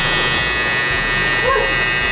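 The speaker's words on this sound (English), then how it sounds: "You can use your trimmer now to make it a little farther right here" An electric hair trimmer buzzes steadily and loudly right up close while cutting coarse hair, a constant high drone with no break for the whole moment.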